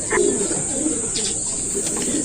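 A rare-colored breeding pigeon coos in soft, low repeated bursts close by, over a constant high-pitched background whine, with no one talking.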